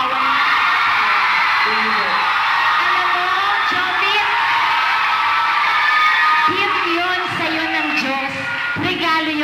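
A large studio audience at a televised singing-talent semi-final cheers, whoops and yells steadily and loudly, with no pause in the crowd roar and a few sharper shouts rising over it.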